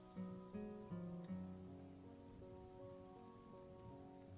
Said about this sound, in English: Outside as it's raining, you hear soft thunder in the distance.